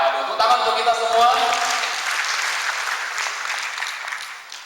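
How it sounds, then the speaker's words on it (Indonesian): Seminar audience applause at a national banking seminar in Indonesia, a broad wash of many hands clapping that starts under cheering voices and a loudspeaker, then continues steadily and gradually fades. "Waduh, tepuk tangan untuk kita semua."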